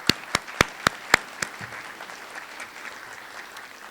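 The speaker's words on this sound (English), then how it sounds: "we can give you all a round of applause as well" A short burst of loud, sharp claps in a quick rhythm at a college commencement, tapering off after about a second and a half into quiet room noise.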